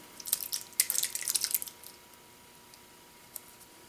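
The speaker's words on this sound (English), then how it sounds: "Take your tomatoes, pour them on top of that." Canned tomatoes poured into a slow cooker for beef stew, a short burst of wet splashing and dripping in the first two seconds, then near quiet with one small drip late on.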